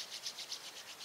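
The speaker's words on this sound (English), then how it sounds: "Rub your hands together." Palms rubbed together in a quick back-and-forth rhythm, a soft close-up swishing friction heard alone during a qigong warm-up.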